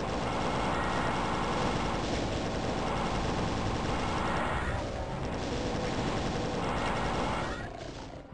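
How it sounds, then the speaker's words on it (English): Rapid plasma rifle fire in Doom II pours out as a dense, loud, continuous barrage of buzzing energy shots with crackling impacts, easing slightly midway and cutting off near the end. "I have a plasma rifle."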